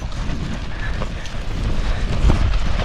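Strong, steady wind roars across an open campsite ahead of Typhoon Pepito, a dense low rumble buffeting the microphone with gusts swelling toward the end and no voices.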